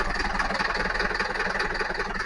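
Truck engine idling in a video game, a steady low rumble with a constant mid-range drone, loud and continuous with no talk.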